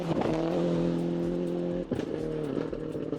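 A Toyota Celica GT4 rally car engine drones loudly with steady harmonic tones, holding a high rev note before a brief dip and recovery, close and continuous with no talk.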